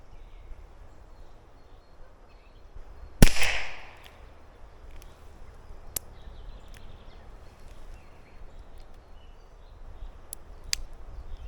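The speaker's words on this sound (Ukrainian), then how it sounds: "стріляю в нижню мішень, 8 пострілів" A single sharp revolver shot (Weihrauch HW4, 2.5-inch barrel) cracks once at a target 7 metres away, with a brief ringing tail, followed by a few faint distant clicks over quiet background.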